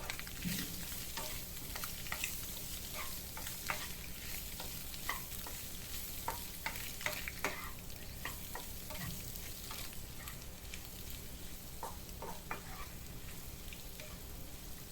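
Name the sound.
egg yolk frying and stirring with masala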